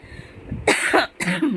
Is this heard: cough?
yes